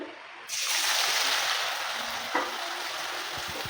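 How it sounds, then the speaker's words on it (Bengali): Potatoes dropped into hot oil erupt into a loud, steady frying sizzle that holds bright and close, with a faint clatter of stirring partway through. "একই তেলে আমি আলুটা ভেজে নেবো"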